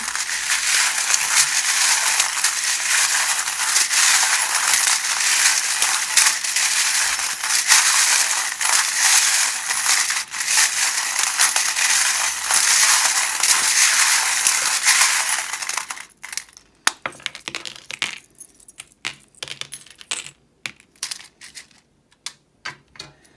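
Tarot charms and a small bone rattle and clatter continuously for a long stretch, then settle into scattered clicks and taps as the shuffling slows.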